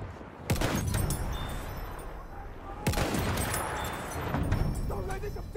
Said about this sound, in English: Looking at a machine gun.